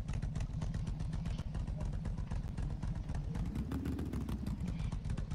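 Engine of an ATV being ridden in a Roblox mud park game, a steady loud rumbling drone with rapid clattery pulses throughout, rising slightly in pitch near the end as the throttle opens.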